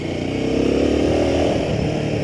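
A Royal Enfield Himalayan 450 dual sport motorcycle rides along with a steady, loud engine drone and faint clatter, close by and without speech.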